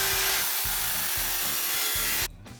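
Radiator being sanded with a wheel attachment on a power tool, a close, rough scraping whir pulsing in quick repeated strokes, then cutting off abruptly near the end.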